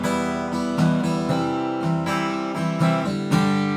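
An acoustic guitar strummed through simple open chords at a steady even pace, about seven downstrokes ringing out clearly and alone with no talk.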